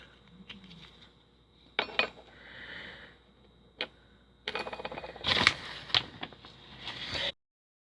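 A tablespoon scoops and clinks against a container while cream of tartar is measured out, giving scattered light metallic taps and scrapes, then a louder busy stretch of clattering near the end, close by.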